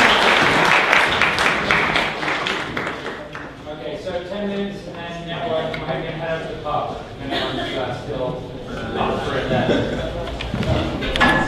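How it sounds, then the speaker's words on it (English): Audience applause for speakers at a technology event, a dense burst of clapping at the start that fades under room chatter and speech, then swells again toward the end. "Round of applause for our speakers."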